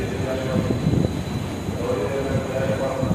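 A passenger train on the Ludhiana to Muzaffarnagar route: a steady, loud rumble of rail travel with rattling carriage noise and faint wheel squeal, while someone talks over it.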